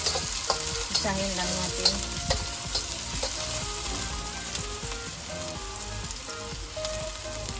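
Chopped onion frying in oil for a simple bihon noodle dish, a steady busy sizzle with stirring clatter throughout, close and fairly loud, with a brief spoken phrase over it.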